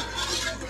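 A spoon stirring beef flavoring into a pot roast in a pot inside an RV kitchen, soft scraping and swishing close by, brief and quiet with no talk.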